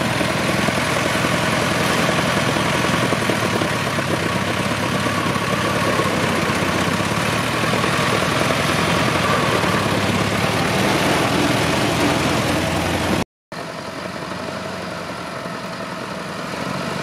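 A 1915 Ford Model T engine runs while the car is driven, a loud, steady, close mechanical drone that cuts out abruptly for a moment near the end before resuming.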